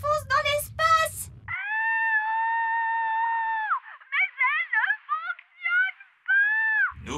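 A cartoon nanny, Nanny Plum from Ben and Holly's Little Kingdom, screams while drifting into space after leaving an elf rocket: a long, shrill sustained wail, then broken warbling cries, loud and alone, with brief speech at the start.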